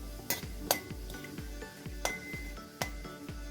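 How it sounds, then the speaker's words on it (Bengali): Nigella (black cumin) seeds with torn dried chilli being stirred in a pan, a spoon clinking and scraping against the metal in repeated sharp strokes, close and moderately loud with no talk. "দিয়ে দেবো 1 ছোটো চামচ কালো জিরা। একটু নেড়ে চেড়ে দেবো।"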